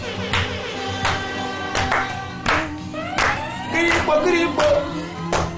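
An audience at an Ivorian evening television show claps for a musician, striking sharp, evenly spaced claps in a steady rhythm over sustained musical tones.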